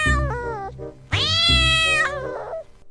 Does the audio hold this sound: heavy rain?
no